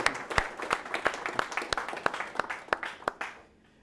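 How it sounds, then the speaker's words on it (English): A seminar audience gives a round of applause, heard as steady, evenly spaced claps for a few seconds before they stop abruptly. "let's just give them one more round of applause"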